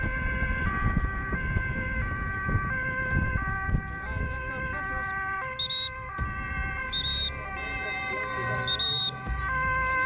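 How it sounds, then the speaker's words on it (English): An ambulance siren wails through traffic in Zoetermeer, its repeating two-tone pattern loud and near over road and engine noise, with intermittent higher tones cutting in. "Okay, I'm seeing the ambulance. He's catching up to them."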